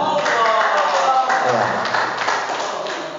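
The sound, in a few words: audience applause for Ustadz Sofyan Sauri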